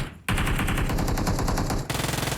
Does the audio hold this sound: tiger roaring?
no